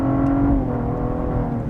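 A Cadillac ATS-V sedan engine pulls hard from inside the cabin in sport mode, a loud steady roar with a rising then settling pitch, no talking.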